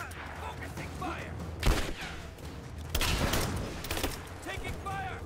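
Gunfire in the video game Rise of the Tomb Raider, a few bursts of sharp shots with mechanical clatter, heard amid shouted combat voices and a busy game soundscape.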